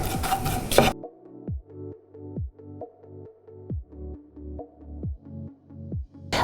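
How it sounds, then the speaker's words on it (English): Onions and chili being stirred with spices in a cooking pot: a steady series of about ten rhythmic scraping strokes, close and fairly loud, after a short noisy burst at the start, with no talking. "I put the onions and the chili in. You can see, and I stir that around with the spices"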